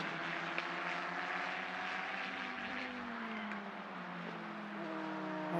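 Race cars of the Ultimate Formula Cup at Mugello circuit passing with a continuous loud engine drone, pitch sliding down as they go by toward turn 15, fairly close and steady throughout.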